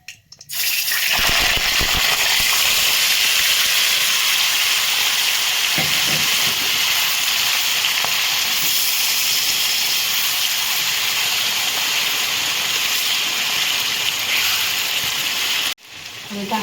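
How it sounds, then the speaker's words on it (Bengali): Chicken sizzles in hot mustard oil in a wok with whole garam masala and bay leaves, a loud, steady hiss of frying that runs for several seconds and then cuts off. "আমি 5 মিনিটের জন্য ভেজে দেব।"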